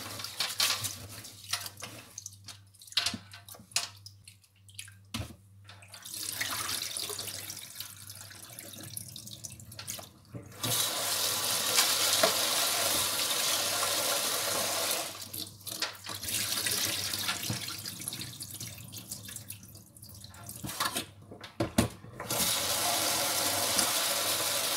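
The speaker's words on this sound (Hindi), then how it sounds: "तो यहाँ मैं चावल धो रही हूँ।" Tap water running into a pot while rice is washed for curry rice, a loud steady gush that starts and stops several times, with quieter gaps of swishing and dripping in between.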